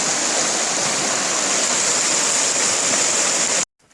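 Creek water rushes steadily over shallow shoals on rural Alabama land, a loud continuous close-up flow that cuts off abruptly near the end.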